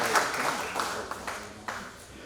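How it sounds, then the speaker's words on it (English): An audience at the Bluefield Coal Show 2019 media and exhibitor breakfast gives a sustained round of applause, a dense, even patter of clapping in a hall, with a voice faintly over it. "Let's give them a great big round of applause."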